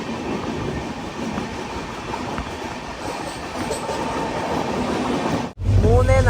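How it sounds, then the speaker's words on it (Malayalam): The SMVT Bengaluru Express runs along the railway track from West Bengal into Bihar near Kishanganj, a steady close rumble of wheels on rails that ends in a sudden loud burst. "വെസ്റ്റ് ബംഗാളിൽ നിന്ന് ട്രെയിൻ ഇപ്പോൾ ബീഹാറിലേക്ക് എത്തിയിരിക്കുകയാണ്"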